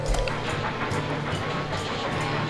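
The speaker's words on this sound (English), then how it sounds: "I heard steam train" A steam train in the video game Railroad Tycoon 3 rumbles with a low chugging drone and rhythmic clatter, moderately loud and alone.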